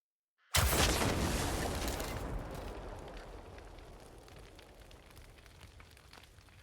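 Explosion of a thrown explosive in the video game Crimson Desert, a sudden loud blast after a moment of silence, then a long rumbling decay with crackling debris trailing off.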